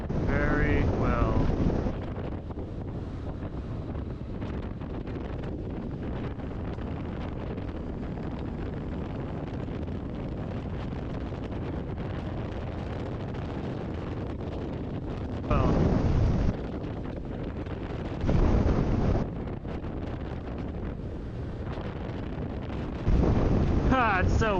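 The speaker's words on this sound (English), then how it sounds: "It's so windy today." Heavy wind buffets the microphone with a constant roaring rumble, swelling into louder gusts now and then.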